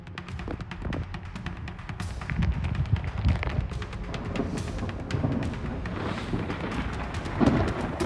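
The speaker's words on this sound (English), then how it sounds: "Powerful lightning bolts cut through the stormy skies over Mildura, blindingly bright and hauntingly beautiful." Steady rain patters and splashes while low thunder rumbles and rolls underneath, a continuous lightning storm over Mildura, Australia, with no voices.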